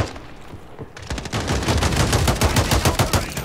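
BAL 27 assault rifle in Modern Warfare 3 multiplayer firing long, rapid automatic bursts after a brief quieter lead-in, loud and close with a dense, steady cadence of shots.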